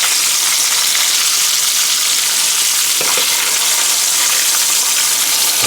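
Potatoes fry in hot grease with a loud, close, continuous hissing sizzle and a brief clatter partway through, no voices present.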